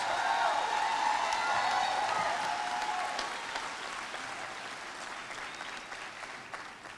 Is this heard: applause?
yes